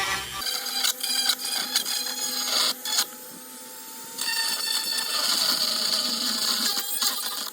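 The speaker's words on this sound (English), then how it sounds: "I am going to try a Dremel" A small high-pitched Dremel rotary tool whines and grinds in uneven bursts while drilling a Toyota Tundra interior part, pausing briefly and then running steadily again.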